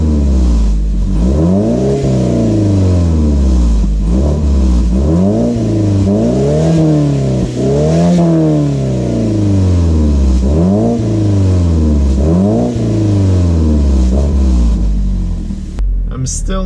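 Stock-exhaust car engine idling then revved repeatedly, rising and falling in steady throttle blips, loud and close, with someone talking over it.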